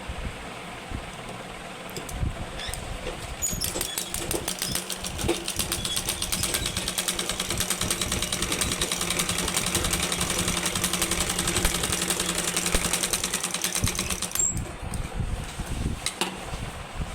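A sewing machine runs steadily while stitching a blouse, a continuous mechanical whir with fine rapid ticking that holds for most of the stretch and stops near the end.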